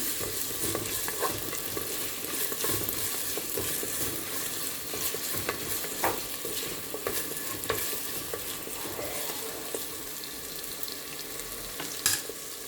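Sliced onions sauté in oil for a sardine fish curry, with a steady close sizzle and frying crackle broken by scraping stirs and occasional sharp clicks of a spoon against the pan.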